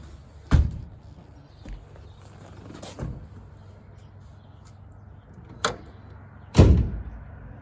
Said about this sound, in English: Again, doors close nice.